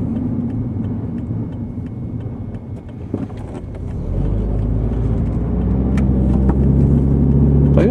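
A BMW car drives past, its engine a low rumble that swells and grows louder partway through and holds steady, with no voices.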